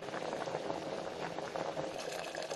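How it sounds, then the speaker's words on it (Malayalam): A green gram curry boils in a pot, giving a dense, continuous, gentle bubbling and popping at close range. "കറി നന്നായിട്ട് 3-4 മിനിറ്റ് തിളപ്പിച്ചെടുക്കാം"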